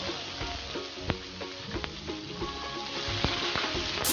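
A sambar tempering with crushed garlic and onion frying in a pan, a steady close sizzle broken by sharp little pops and the clatter of a stirring spoon.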